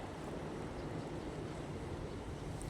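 Strong storm wind roaring steadily through a village, a dense, continuous broadband rush with low buffeting rumble, close and loud with no talking.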